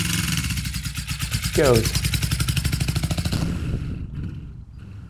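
Suzuki GS450 cafe racer motorcycle on its first ride, its engine chugging with a loud, rapid pulsing beat close by that rises as it revs and then fades away, with a brief spoken word over it.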